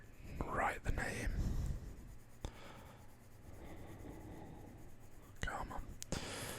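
Pencil shading on paper across a hand-drawn map of Michigan, a soft continuous scratchy rubbing near the microphone, with quiet whispered talk during the strokes.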